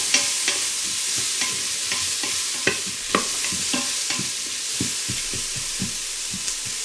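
Thinly sliced diced celery and onions sautéing in a pan, a steady soft sizzle broken by frequent light stirring scrapes and taps, fairly close, no voices.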